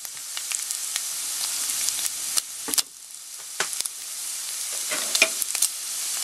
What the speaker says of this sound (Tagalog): Hayaan nating ma-fry ng konti ito.